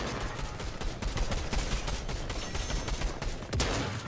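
Rapid gunfire in the video game Fortnite, a dense continuous barrage of shots with a sharper burst near the end, steady and fairly loud throughout without speech.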